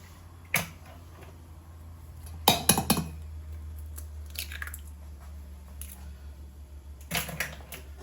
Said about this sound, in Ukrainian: вбиваємо три яйця.